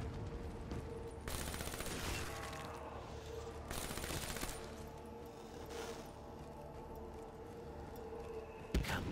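Bursts of automatic fire from the Dingo light machine gun in Call of Duty Black Ops 3 Zombies, two long loud rattling volleys separated by quieter stretches, with a sharp single crack near the end.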